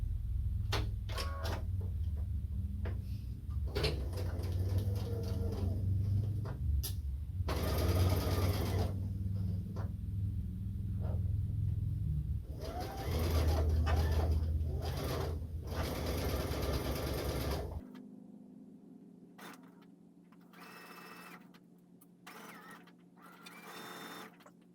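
A sewing machine stitches quilt block seams in short stop-and-start bursts of mechanical clatter and whir, followed by a quieter stretch of low hum and small clicks near the end.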